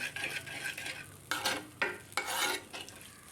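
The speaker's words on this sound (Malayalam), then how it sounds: "ഇനി നന്നായിട്ടൊന്ന് ഇളക്കി യോജിപ്പിച്ച് കൊടുക്കാം" A spoon stirs yogurt into ginger curry (inchi thairu) in a pan off the heat, making steady scraping and sloshing strokes with a few louder swishes, close up and moderately quiet, with no talk.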